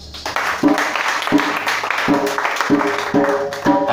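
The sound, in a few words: congregation applauding to acclaim the Lord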